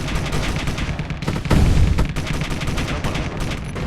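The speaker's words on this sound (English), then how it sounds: "There goes the cannon." In the video game Space Engineers, a ship's cannon fires amid a dense, loud barrage of rapid gunfire and booming impacts, with one heavy blast standing out midway.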